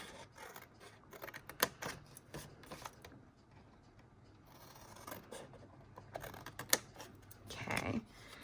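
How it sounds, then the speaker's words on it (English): Scissors cut the four corners of a paper box made with Stampin' Up products, giving scattered close snips and rustling paper in a quiet room with no talking. "I'm cutting the 4 corners"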